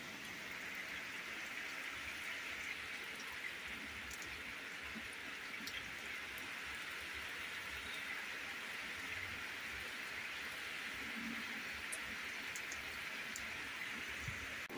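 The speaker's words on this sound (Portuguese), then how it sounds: "Barulhinho da água caindo." Steady rain pours down outdoors, a continuous broadband hiss of water falling with scattered drips and patters, fairly faint and unbroken throughout with no talking.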